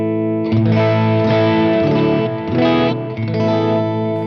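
Clean electric guitar chords with a quarter-note delay, repeating echoes trailing behind each strum, a little reverb, steady and fairly loud with no voices.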